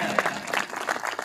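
An audience at a Gadariya (Pal, Baghel, Dhangar) community gathering bursts into loud, dense applause to welcome the host, with many hands clapping at once, close and continuous throughout.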